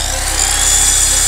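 A borrowed saw cuts through material during a home renovation project fitting cladding and a front door, a loud, steady, continuous buzzing grind up close with no pauses and no voices.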